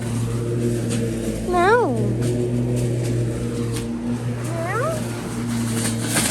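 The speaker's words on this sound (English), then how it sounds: "My cat is next to the window. Meow." Two short rising meows, one early and one later, over a steady low hum and faint background noise.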